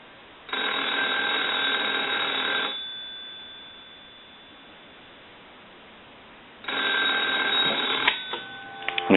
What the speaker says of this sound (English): let's go ahead and ring the telephone